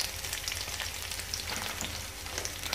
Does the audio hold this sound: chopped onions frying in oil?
yes